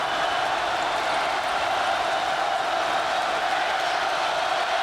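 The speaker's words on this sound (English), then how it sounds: "Crowd is on fire here in College Park." A packed arena crowd at a Purdue at Maryland college basketball game in College Park roars in a continuous, dense wall of cheering, with a commentator's voice faintly mixed in.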